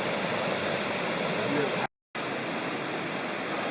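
Steady broadband rush of a waterfall beside a backcountry campsite in the Lost Cove wilderness, a constant close wash of falling water that cuts out abruptly for a moment midway before resuming unchanged.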